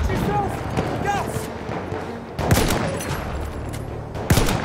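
Shotgun blasts and other gunfire in a Battlefield 1 online match, sharp loud reports in the second half over a busy backdrop of distant battle noise, with voices talking throughout.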